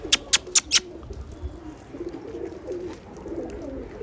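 Pigeons beat their wings in four quick sharp claps at the start, then soft low cooing continues at a moderate distance with no voices.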